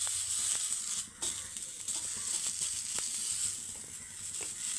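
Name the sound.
carrots frying lightly in a pan for a homemade burger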